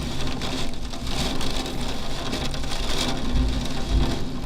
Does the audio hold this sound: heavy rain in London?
yes